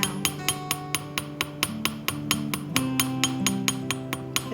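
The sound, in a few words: hammering it flat, planishing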